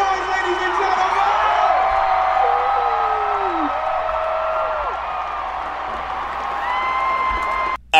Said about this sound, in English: that last few seconds there is just some clapping and cheering and whatnot